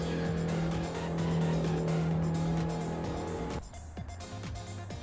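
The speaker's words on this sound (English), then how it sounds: "The engine noise is great" A James Bond DB5 cruising along the Pacific Coast in Assetto Corsa, its engine droning steadily with a strong tone, then easing off and shifting near the end, with no voices.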